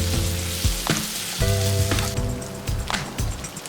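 Okra masala with ginger garlic paste sizzling steadily in a pan as a spoon stirs it, loud close frying hiss with occasional scrapes and knocks against the pan.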